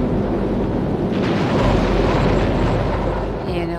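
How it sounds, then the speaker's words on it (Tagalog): A 1954 Operation Castle hydrogen bomb detonation in the Pacific near Rongelap roars as a sustained, loud low rumble, a dense continuous blast that holds steady without pause. "Napakalaking pagsabog nito."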